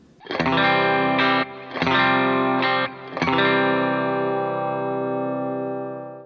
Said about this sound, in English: let's just go ahead and listen to it clean and see how it sounds